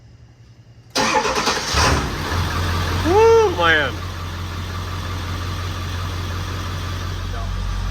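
A 7.3 diesel truck engine with 232k miles cranks and catches, then settles into a steady low idle rumble, with a man's brief exclamations over it.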